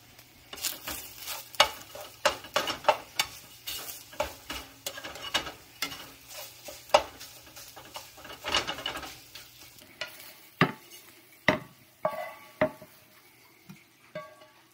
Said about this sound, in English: So we're having a scrambled egg today, but we'll see how it tastes.